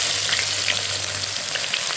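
Two large finely chopped onions fry in hot oil with cumin seeds, a loud, dense, continuous sizzle heard up close and alone, with no voices.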